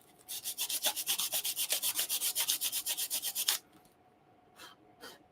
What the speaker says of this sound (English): it's sanded down a little bit, especially if I can come up with some little sanding block tool